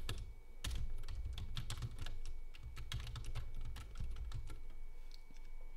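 Someone types on a computer keyboard in a quiet room, producing a steady run of quick, light key clicks at close range, with short pauses between bursts.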